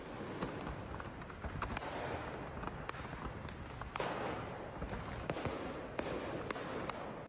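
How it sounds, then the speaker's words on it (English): Fireworks crackle and pop from a burning truck in the video game Promise Mascot Agency, a dense, continuous barrage of sharp bangs and crackles going steadily for several seconds with no talk. "This truck that was carrying a bunch of fireworks caught on fire,"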